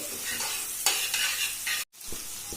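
Chicken fried rice with cabbage frying on high flame in an iron kadai, a close, bright sizzle with brisk scraping strokes of the spatula, briefly cut by a moment of silence, with no talking.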